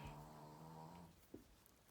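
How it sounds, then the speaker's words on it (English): A dog snores indoors in a steady low droning rumble, close to the microphone, fading out partway through with a small knock near the end. "my dog just snores every time I put this camera on"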